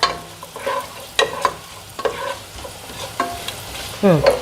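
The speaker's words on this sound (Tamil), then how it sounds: "இப்படி சோம்பு சீரகம் எல்லாத்தையும் பொரிய விட்டுடலாங்க." Fennel and cumin seeds crackle and sizzle in hot oil, with scattered pops and a utensil stirring and scraping the pan nearby.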